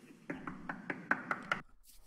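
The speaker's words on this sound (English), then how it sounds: "He's made a fist and he's knocking with the front of his knuckles." A fist knocks on a door with the front of the knuckles, seven rapid, evenly spaced raps, faint and a bit distant, followed by a short quiet rustle.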